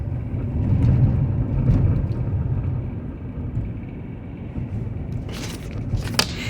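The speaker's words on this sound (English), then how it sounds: "I am driving down I want to say I'm driving down Middle Avenue right now" A car driving down Middle Avenue in Elyria, a steady low road rumble throughout, heavier in the first two seconds, with a couple of brief bright rattles near the end.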